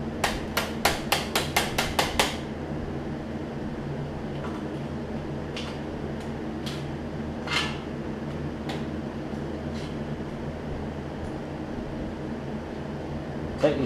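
An impact wrench on a 10 mm socket removes bolts from a John Deere 125 riding mower, a quick burst of about eight sharp rattling hits up close, then scattered faint clicks over steady background hum.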